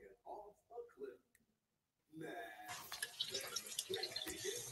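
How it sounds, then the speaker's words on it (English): Water trickles and flows through, starting after a brief silence as a bright, continuous splashing stream, and a person talks softly just before and beneath it. "The water flowing through."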